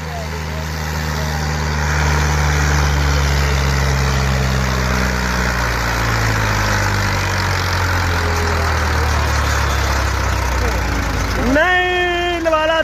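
A 240 tractor idles with a deep, steady rumble while hitched to a fully loaded 14-foot trolley. The engine is close and loud throughout, and a voice talks over it, rising near the end.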